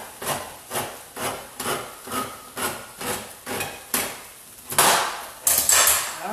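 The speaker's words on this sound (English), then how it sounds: "we are actually scraping up the brown bits on the bottom of the pan" A utensil scrapes browned bits off the bottom of a pan while stirring a spaghetti sauce, a steady rhythm of about a dozen rasping strokes, louder and harsher toward the end.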